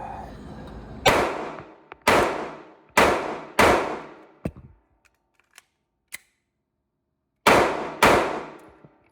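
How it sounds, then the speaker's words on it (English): Pistol fired on a shooting range in a magazine drill: four loud sharp shots in steady rhythm, a pause with small clicks of the magazine swap, then two more shots. No talking. "I'm going to do a mag drill. So I'm going to do a 4-round mag."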